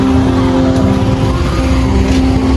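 A motorbike is ridden into a parking spot near Pashupatinath in Kathmandu, its engine a loud, steady, close drone with a low hum and no clear revving.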